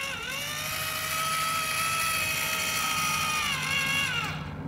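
A steady whirring fan hum from a roof ventilation fan in the kitchen of a 2021 Thor Sequence 20L Class B camper van runs continuously with a faint tonal whine, then cuts off abruptly at the end.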